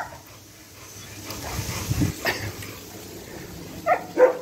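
A dog being trained to grab and bite an object makes soft whimpers and panting, then a couple of short, sharp barks near the end, fairly close with quiet room noise.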